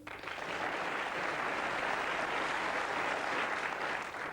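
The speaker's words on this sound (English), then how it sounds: "Applause there." A studio audience claps in a dense, even wash of applause for about four seconds, moderately distant and fading out at the end.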